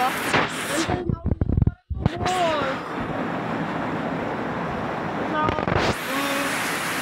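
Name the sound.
heavy rain falling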